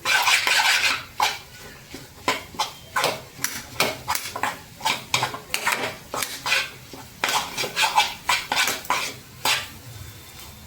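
A metal spoon scrapes and clinks steadily against a pot while stirring green pigeon pea (lilva) kachori masala filling, a close, repeated rhythm of knocks and scrapes with no talking.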